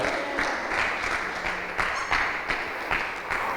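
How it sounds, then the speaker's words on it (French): Church congregation cheering and applauding loudly for the Lord at an evangelical service, dense sustained clapping with rhythmic swells and crowd shouts throughout. "Est-ce qu'on peut acclamer très fort pour le Seigneur?"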